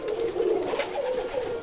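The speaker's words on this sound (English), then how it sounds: "The poor pigeons were now caught." Pigeons coo in a steady, continuous run of soft, rolling calls, close and fairly loud, with no other voices.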